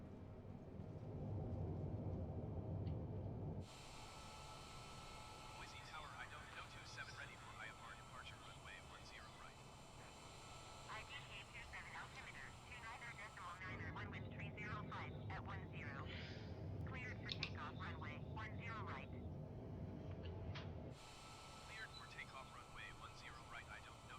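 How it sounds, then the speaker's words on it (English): A Boeing 787-10 Dreamliner's engines roar loudly in reverse thrust during the landing rollout, a broad sustained rush with surges and shifts in intensity, heard from inside the aircraft with faint voices underneath. "Reverses! Reverse thrust!"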